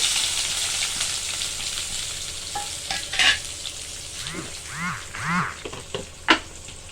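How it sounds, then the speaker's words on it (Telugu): Onions frying in hot oil for an egg curry give a steady close sizzle, broken by several louder scraping stirs in the second half. "ఇది కాలిపోయిన తర్వాత ఆనియన్ వేసుకోవాలి"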